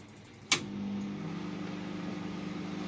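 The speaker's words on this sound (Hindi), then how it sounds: "हमारा माइक्रोवेव ऑन हो चुका है" A steady low electrical hum starts after a sharp click and drones on evenly, the constant buzz of an IFB 30SC2 microwave oven running nearby after a power supply repair.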